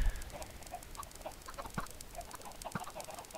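Minecraft chickens clucking in short, scattered calls over a steady background hum, with a couple of soft thuds, moderately quiet throughout.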